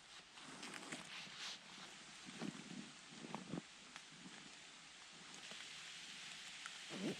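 Rain falls steadily in the woods during a public-land deer hunt, a faint continuous patter with occasional close rustles and shuffling movements, and no talking.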